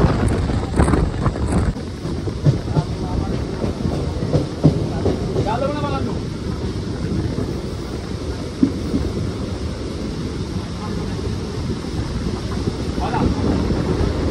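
A train runs on rails toward Bira station on a foggy morning, a heavy continuous low rumble and rattle heard from inside with wind buffeting, while a voice talks faintly underneath.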